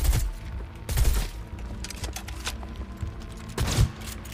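Rapid bursts of gunfire in the video game Cyberpunk 2077, sharp close shots clustered at the start, middle and near the end, over continuous game background noise.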